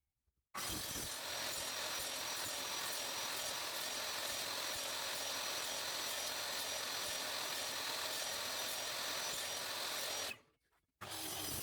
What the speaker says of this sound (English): So here I'm cutting a dado in the side panel to accept the lower part of the cabinets